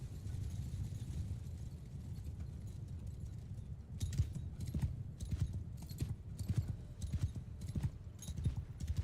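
Horses galloping in the medieval battle game Mount & Blade II: Bannerlord, a steady rumble of many hooves with rhythmic clip-clop thuds, growing louder and more distinct partway through.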